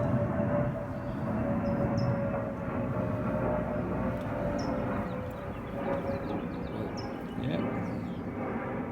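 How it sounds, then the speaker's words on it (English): An airplane passes overhead as a broad, steady roar that swells and eases over several seconds, with faint birdsong chirps on top. "Excuse the airplane."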